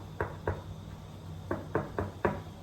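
Knuckles knock on a wooden surface outdoors in San Francisco, two sharp raps, a pause, then four more close together, near and moderately loud.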